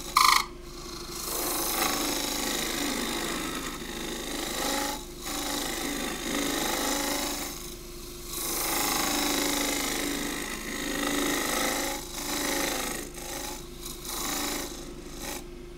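A heavy one-inch gouge cuts across the bottom of a thin wooden pot spinning on a lathe, giving a continuous close scraping hiss over a steady low hum, with gentle swells as the cut moves.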